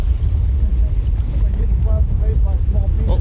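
Strong wind buffets a fishing boat, a loud, constant low rumble of wind on the microphone, with brief faint tonal squeaks from the boat.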